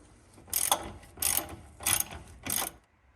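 A socket ratchet clicks in four distinct bursts with pauses between them, loosening the rear shock absorber nut on a 1985 Chevrolet Caprice Classic, close and clear with no talking.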